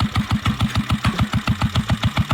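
A modified Guerrilla 450 motorcycle fitted with a generator engine runs at a steady idle, a loud, close, evenly pulsing thump of about six beats per second with no talk.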